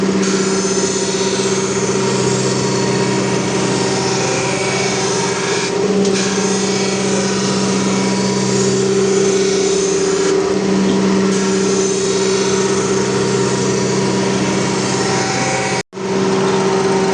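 Loud, steady mechanical whine and hum of an ELB surface grinding machine grinding its tables, running continuously up close, with a brief cutoff near the end.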